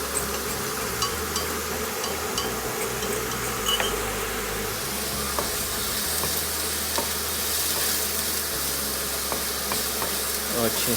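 Beef goulash with cut pepper sizzling and frying in a pan while being stirred, a steady close sizzle with small scraping and clinking sounds throughout.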